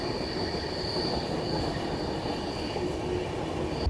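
An Indian passenger train runs on its rails, giving a continuous close rumble with a steady high wheel squeal, no voices over it.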